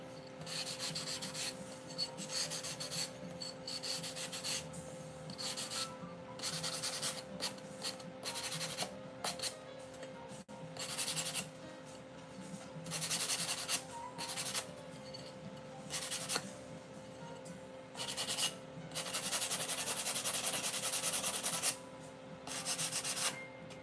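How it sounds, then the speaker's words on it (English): Steady hand sanding, a rough scratchy rubbing in repeated strokes with short pauses, close and fairly quiet. "but it pays off sanding stuff."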